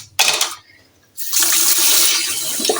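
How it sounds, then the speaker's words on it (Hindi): Water rushing from a tap into a container holding eggs, a loud steady gush that starts, pauses briefly, then pours continuously with no talk. "अंडों में ज़रा हम डाल लेते हैं पानी ताकि बर्तन धोने तक जो है ना वो ये साफ़ हो जाए।"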